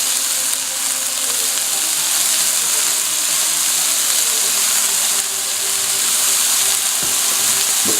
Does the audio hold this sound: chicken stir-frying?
yes